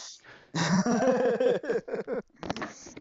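A dog whimpers, yips and growls close by in a series of strained vocal bursts, with brief pauses between them and little else in the background.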